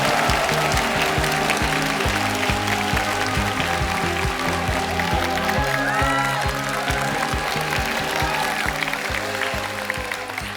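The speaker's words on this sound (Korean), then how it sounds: "여러분의 큰 박수로 시작하겠습니다." An audience applauds as a live televised lecture opens, a continuous clapping wash beneath loud, rhythmic stage music with a pulsing beat.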